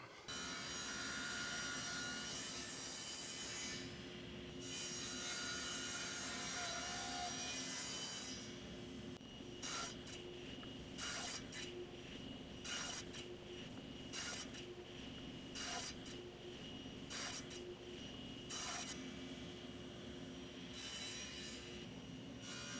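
Scrap wood being cut to length into small travel-size cribbage game boards with a power saw, a loud continuous whine broken by repeated short cuts and pauses, steady throughout with no talking.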